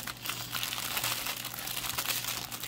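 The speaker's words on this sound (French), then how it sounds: "je vais te laisser déballer ça tout de suite" A Dreamer Designs Autumn Wolf Family diamond painting kit being unwrapped up close, with continuous crinkling and rustling of plastic packaging at a moderate level.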